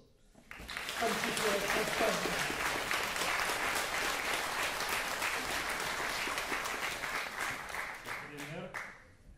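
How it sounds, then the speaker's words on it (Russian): A concert audience in Estonia claps for a Ukraine benefit performance, swelling quickly into sustained, fairly distant applause that holds steady before tapering off near the end. "Вот эти аплодисменты, которые вы сейчас слышали"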